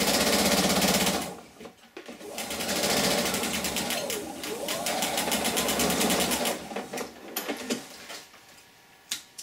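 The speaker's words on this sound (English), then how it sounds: "Little back stitch." A sewing machine back stitching quilt-as-you-go blocks hums in rapid, steady runs, with a short pause near two seconds and then a long run that ends in a few separate bursts and clicks, close and clear.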